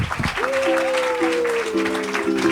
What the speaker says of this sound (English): how about a huge round of applause for Brent and Kyle Pease and the book,